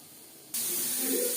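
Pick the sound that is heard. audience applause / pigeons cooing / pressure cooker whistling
pressure cooker whistling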